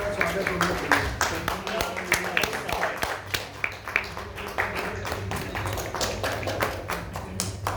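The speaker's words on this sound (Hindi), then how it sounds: "मुझे लगता है सभी कलाकारों का तालियों की गड़गड़ाहट के और स्वागत होना चाहिए" An audience claps to welcome the actors of a stage play, with a steady run of hand claps at moderate distance and voices speaking over the clapping.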